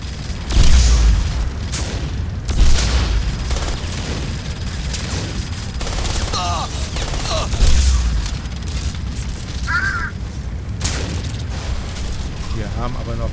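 Gunfire in the shooter Crysis Warhead, a series of deep booming shots spread through dense game noise, with several sharper bursts standing out and people talking in German throughout.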